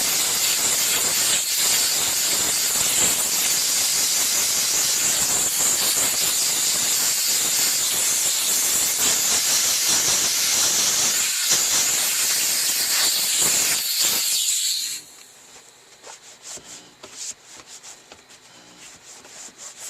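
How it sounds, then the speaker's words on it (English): A steam car wash machine blasts steam into a car seat track, a loud, steady hiss with rubbing and scrubbing noise, close by, for about fifteen seconds before cutting off to quiet room sound with faint clicks. "We're just going to steam it and blow it all out."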